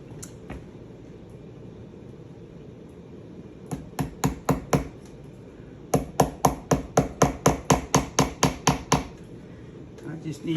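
Sharp hammer blows strike in quick rhythmic bursts while wrapping a saddle horn, a short run followed by a longer steady series of close, hard knocks.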